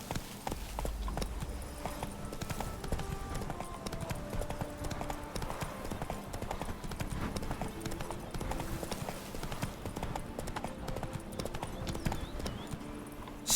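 Roach the horse's hooves clip-clopping steadily in The Witcher 3: Blood and Wine, a continuous rapid rhythm of hoofbeats with game ambience and occasional faint voices.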